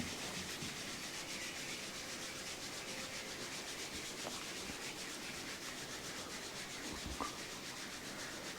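Palms rubbing briskly together during a yoga hand exercise, a steady dry swishing friction sustained evenly throughout, close and continuous with no talk.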